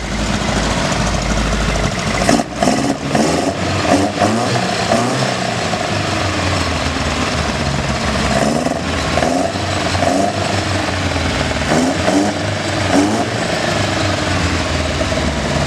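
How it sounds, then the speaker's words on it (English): Ford Capri engine fitted with sidedraft carburetors runs steadily in a close, loud, throbbing idle, with a few sharp revs and crackles breaking through the rumble. "I'm going to give you guys a quick sound clip of what the Sidedraft sounds like"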